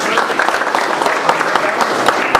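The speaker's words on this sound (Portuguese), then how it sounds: "Uma salva de palmas para os nossos." Church congregation applauding during a sermon, loud close clapping with distinct sharp claps standing out over the steady clatter, voices faintly mixed in.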